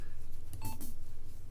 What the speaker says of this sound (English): So that was the sound of a client hit, but a server miss.